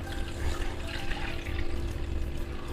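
Water pours steadily into a pan holding sugar, a continuous splashing and gurgling stream lasting a few seconds with no talking.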